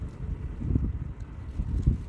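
Low, blustery, cold spring wind in the countryside rumbling against the microphone, steady with a couple of stronger gusts, no voices.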